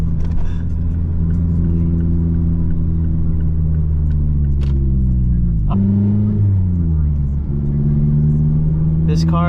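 A 2016 Mazda MX-5 Miata engine hums at a steady rumble, then blips and drops in pitch during a heel-toe downshift before settling again, loud and close inside the cabin.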